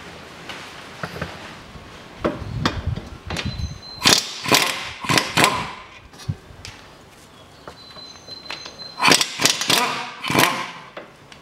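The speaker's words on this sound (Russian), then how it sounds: "Откручиваю два болта с двух сторон." Ratchet wrench loosening 17 mm bolts on a Lada 2110 during outer CV joint replacement: bursts of rapid metallic clicking from close by, in several separate runs with short pauses between them, and no speech.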